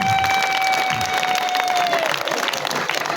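Crowd at a cooperative gathering in Rwanda applauding the government, dense sustained clapping close and loud throughout, with a faint whistle-like tone over it early on.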